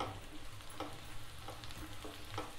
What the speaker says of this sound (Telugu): మీడియం ఫ్లేమ్ లోనే పెట్టి వేయించుకుందాం